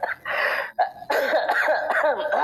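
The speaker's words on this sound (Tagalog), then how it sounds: "Okay, klarong-klaro naman yung ubo mo." A person coughs several times in quick, harsh bursts close up, with short pauses between the coughs and no talking.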